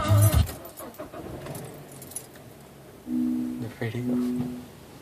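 A key is pushed into the ignition of a manual car with a jangle of keys, then turned. The engine cranks and catches into a steady idle, with brief talk in between.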